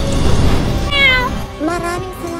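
A white kitten gives a couple of clear, rising meows in quick succession over a busy background of low murmuring sound.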